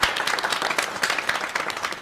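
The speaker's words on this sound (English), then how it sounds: "Give yourselves a round of applause, everybody." A small panel audience in a London studio gives a round of applause, dense steady clapping filling the whole stretch at close range.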